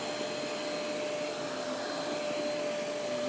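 A Riccar S25D upright vacuum cleaner runs steadily with its brush roller engaged, giving a loud, even roar with a high whine held throughout.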